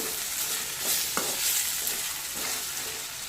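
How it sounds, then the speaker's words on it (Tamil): Chopped medium-size tomatoes sauté in a pan for crab gravy, giving a constant close sizzle with a few soft stirring scrapes and one sharp utensil tap, with no talking. "தக்காளி நல்லா வதங்கணும்"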